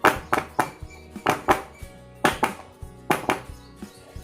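A metal cake tin filled with mango cake batter is tapped against a hard surface about a dozen times in small uneven clusters, each knock sharp and clattering, close up.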